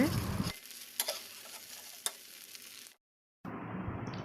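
Wheat appam frying in a pan, a steady soft sizzle with a few faint clicks of handling, then a brief silence before the sizzle resumes.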